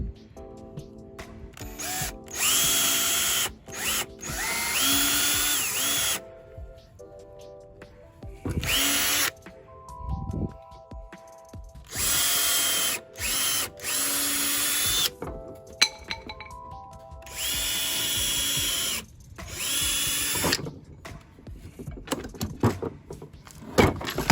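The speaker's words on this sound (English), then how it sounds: "Go ahead and drill these pilot holes." A power drill whirs in repeated bursts, revving up and stopping several times as pilot holes are bored in furniture, with brief pauses and clatter between runs.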